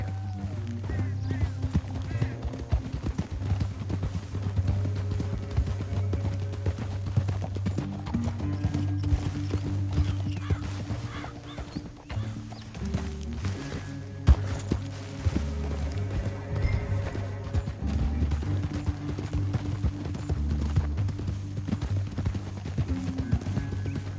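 Steady clip-clop of horse hooves in Red Dead Redemption 2, riding through a canyon while a musical score plays underneath, with an occasional whinny; no talking.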